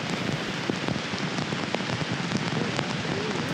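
Steady rain pours down on a golf course during a women's professional tournament round, a dense continuous patter with scattered sharper drops throughout.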